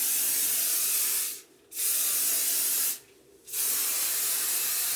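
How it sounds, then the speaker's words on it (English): Care finishing hairspray, a medium-hold spray, is misted onto curls in three long, loud, close hissing bursts separated by two brief pauses. "I'm just gonna spray them before I run my hands through the"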